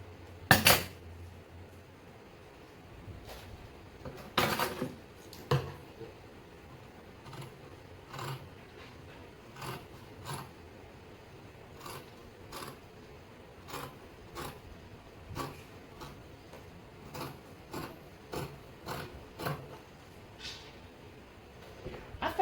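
Scissors snip repeatedly along the edges of folded net fabric, a steady series of short, crisp cuts with faint clinks, close and moderately quiet, with no talking.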